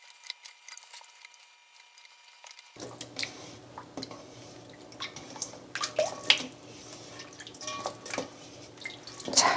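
Raw oysters being rinsed by hand in water to make salted oyster jeotgal (eoriguljeot), with sloshing, dripping and wet squishing that starts after a quiet moment and continues at close range.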